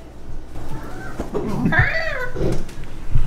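A house cat meows near an indoor setting, with a rising, drawn-out tonal cry in the middle of the clip over background room noise and faint voices.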